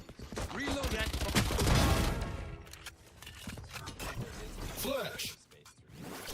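Rapid bursts of gunfire from the Valorant video game, several shots clustered early and again near the end, mixed with game voice callouts and player talk throughout.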